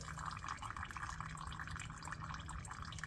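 Engine oil drains from a Kubota M7040 tractor into a catch pan, a faint, continuous trickling and dripping with no talk.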